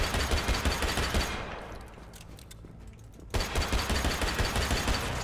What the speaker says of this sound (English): Maybe he's got a machine gun.